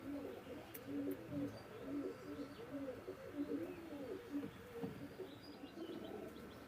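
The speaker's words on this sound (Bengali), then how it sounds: "দর্শক এক জোড়া কবুতর আছে দেখেন এই কবুতর জোড়া নিউ অ্যাডাল্ট" Pakistani Teddy pigeons, a breeding pair, coo in a low repeated pattern at close range, with faint chirps above and steady background noise.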